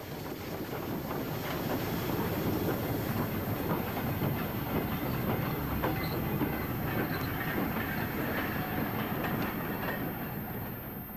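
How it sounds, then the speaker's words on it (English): BR Standard Class 9F 2-10-0 steam locomotive hauling a ballast train northward, heard as a steady rolling rumble of wheels and wagons with faint clicks, holding constant for the whole stretch. "Another of these magnificent 210s follows northwards with the ballast train."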